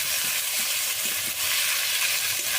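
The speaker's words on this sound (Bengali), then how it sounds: "এখন আদা রসুনের সাথে গুগলিটা ভালো করে কষিয়ে নেব।" Snails frying in a pan with ginger and garlic give a dense, continuous sizzle close by, with faint stirring scrapes and no talk.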